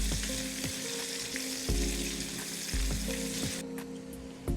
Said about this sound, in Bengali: পেঁয়াজটা একটু আমি ভেজে নিয়েছি